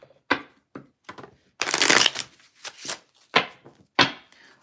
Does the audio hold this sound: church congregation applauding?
no